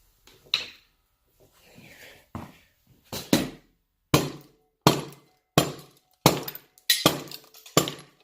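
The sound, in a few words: hammer knocking on engine parts during teardown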